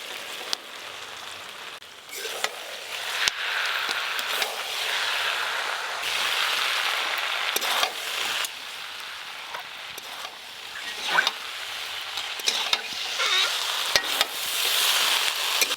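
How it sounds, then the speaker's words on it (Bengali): Fried potatoes and soybean chunks stirred into a sizzling spice masala in hot oil, with a continuous close crackling sizzle, irregular scraping stirs and small clanks throughout and no talk. "ভেজে রাখা আলু আর সয়াবিন দিয়ে দেবো।"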